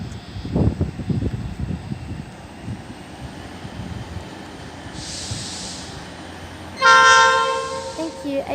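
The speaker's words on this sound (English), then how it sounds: "And we have an 81 class approaching." An 81 class diesel locomotive hauls a ballast train past, its engine rumbling and wheels rolling steadily, then a loud, sustained multi-tone horn blast sounds close by near the end.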